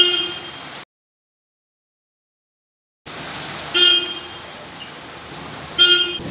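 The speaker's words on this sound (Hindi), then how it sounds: "देखिए आज तो बारिश बहुत आ रही है, पानी भी बहुत ज़्यादा भर गया है।" Heavy rain hisses steadily outdoors, with a car horn honking twice over the downpour; the sound drops out completely for a couple of seconds partway through.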